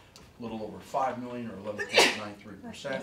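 A single sharp sneeze bursts out near the microphone in the middle of a school budget meeting, with a person speaking steadily before and after it.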